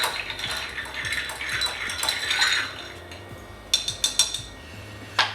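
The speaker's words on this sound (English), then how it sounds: "Let's go on ahead and give that a stir." A spoon stirs a Grizzly Bear cocktail topped with milk or half and half in a glass. Close swirling clinks of metal on glass come first, then several sharp separate taps, all fairly quiet.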